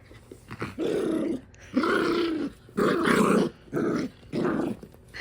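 A dog growls in a series of five loud, sustained rumbling bursts with short pauses between them, close by with no talking.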